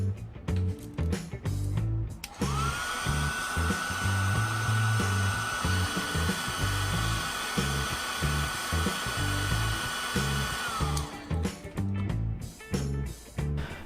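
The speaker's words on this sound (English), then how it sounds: "heat with hairdryer and carefully separate the speaker from the case" A hairdryer heats the adhesive holding an iPhone X speaker during a repair, giving a loud, steady whine that starts after about two seconds and runs unbroken for roughly nine seconds before cutting off, over a busy low background.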